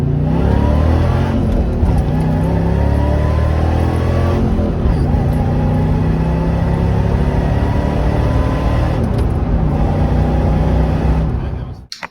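Supercharged Ford Crown Victoria with a five-speed manual accelerating hard, a loud continuous engine drone from inside the car rising in pitch through each gear before dropping at shifts, fading as it ends.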